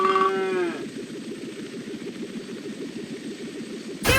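In a Paw Patrol farm video game, a cartoon cow gives a short moo at the start, then a steady musical background plays with no talking.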